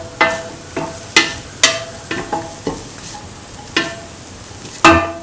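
Spoon stirring cardamom into a carrot and coconut milk pasta mixture in a pan: about ten sharp scraping clinks at an uneven rhythm over a soft sizzle, close and fairly loud, with no talking.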